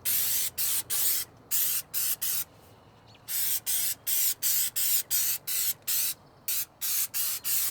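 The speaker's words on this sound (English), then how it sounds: "Also spray this bracket that was cut as well, so we don't have any rusting issues with that." Short bursts of aerosol rust-protection spray hit a cut bracket on a 4th gen Toyota 4Runner, about twenty quick hissing puffs in steady rhythm with one brief pause midway, close and clear.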